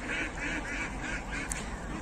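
Ducks in a fenced duck house beside a pond quack in a rapid, regular series of nasal calls, moderately near against a steady background hiss, with no speech.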